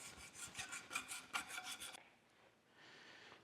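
Hand file rasping burrs off a freshly cut key, a rhythmic series of quick scraping strokes followed by a softer, steadier rub, close and quiet with no talking.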